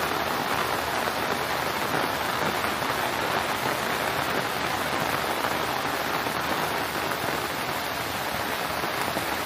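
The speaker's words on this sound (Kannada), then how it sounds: "ಇವತ್ತು ಹೆವಿ ಮಳೆ ಇದೆ ನೋಡಿ, ವೆದರ್ ಹೆಂಗಿದೆ" Heavy monsoon rain pours steadily in the Kukke–Sakleshpur hill region, a dense, even roar of drops drumming on surfaces throughout, loud and unbroken, with no voices.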